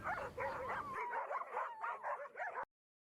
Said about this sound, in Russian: Но наткнулся на стаю бродячих собак.